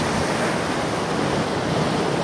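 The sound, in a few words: ocean waves breaking on lava rocks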